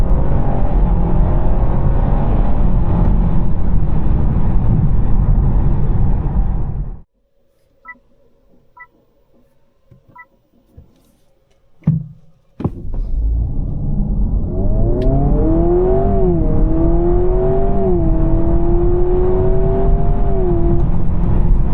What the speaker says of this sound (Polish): w trybie sport coś tam zaczyna ten samochód brzmieć